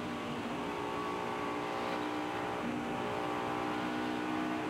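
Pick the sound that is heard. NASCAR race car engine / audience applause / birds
NASCAR race car engine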